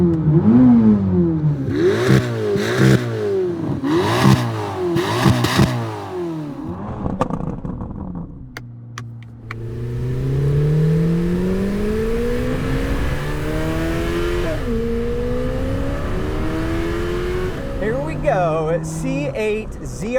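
A Chevrolet Corvette C8 ZR1 engine revs in several sharp, rising blips, then settles into a sustained drone that climbs through gear changes. The sound is loud and close, with a final burst of revs near the end.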